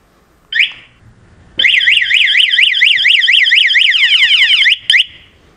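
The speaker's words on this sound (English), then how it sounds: "All right, I can check out this alarm system," The aftermarket alarm on a 2019 Bashan Brozz 250 dual-sport motorcycle gives a short chirp, then a loud, close warbling siren that rises and falls rapidly for about three seconds before cutting off with a final chirp.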